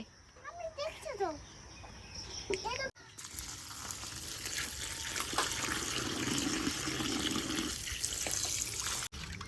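Running water from a tap while crabs are being cleaned on a rainy day, a steady splashing hiss filling most of the clip after a short opening of chirping and ambient noise.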